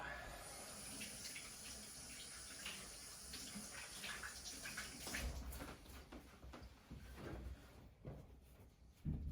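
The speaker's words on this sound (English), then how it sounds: "I'll just wash my hands" A kitchen tap runs steadily while hands are rinsed under it, giving a continuous close splashing rush with small shifts in flow and a faint clatter near the end.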